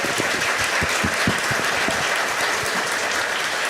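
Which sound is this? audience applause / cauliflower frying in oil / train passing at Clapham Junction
audience applause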